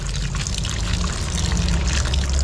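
Running water pours steadily from a tap as beef intestines are rinsed beneath it, a continuous close splashing rush with no pauses.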